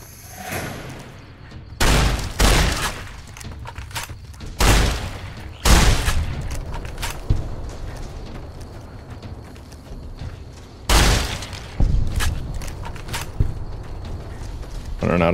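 Shotgun blasts in Fallout: New Vegas, loud broadband bursts spaced irregularly, several clustered shots with mechanical reload clatter and game ambience between them, voices talking at times.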